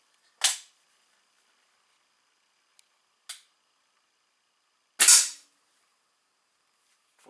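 A Slavia 630 .177 air rifle fires with sharp, clean cracks: two loud shots separated by quiet, plus a smaller click between, in an otherwise silent setting.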